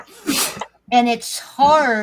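A single sharp sneeze bursts out near the start, followed by a person speaking in a close, conversational voice.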